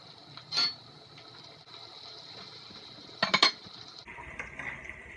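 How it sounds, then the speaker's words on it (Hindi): Chicken going into a pot with crushed ginger and garlic for a chicken curry: faint background hiss, a soft thump early on, then a quick cluster of metallic clatters and scrapes, with no talking. "अब मैं इसमें डाल दूंगी चिकन।"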